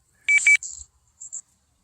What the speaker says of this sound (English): Ew, my phone beeped.